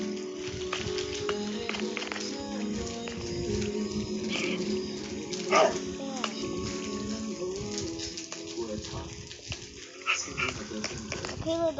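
Little dog yipping and whimpering indoors, with short barks and whines scattered among ongoing human talk.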